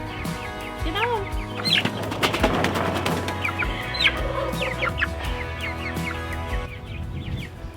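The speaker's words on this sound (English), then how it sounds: "This was the only bantam chicken that we had hatch out of the whole thing." A bantam chicken clucking close by among other fowl, short repeated clucks and squawks with some wing flapping, over a busy outdoor background.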